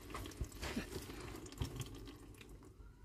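Fluid drains out of a 1994 Mitsubishi Delica L400 2.8 diesel engine into a catch pan during a rear main seal job, making a steady, fairly quiet trickle and splash with a few separate drips.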